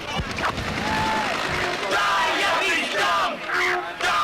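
Crowd yelling and shouting during the 1988 riot as police attack protesters in Tompkins Square Park on New York's Lower East Side, a dense, continuous roar of raised voices with scattered cries.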